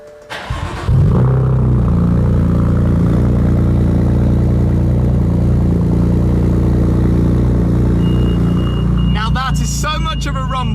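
An AC Schnitzer ACL2, a 2 Series fitted with a 570 hp M4 engine, cranks and fires, then settles into a loud, deep, steady rumble up close. Near the end a car alarm chirps faintly.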